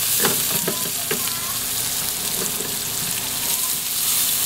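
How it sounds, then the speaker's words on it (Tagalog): Garlic and onion sautéing in a pan for sinigang, a steady close sizzle with a few scraping stirs of a utensil near the start and middle. "gisa lang po natin sila ng mga 1 minuto o hanggang maging translucent na yung sibuyas"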